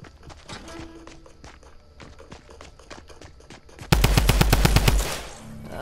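Gunfire in the video game Fortnite: scattered, fairly quiet shots for several seconds, then a loud burst of rapid automatic fire around the fourth second that stops abruptly.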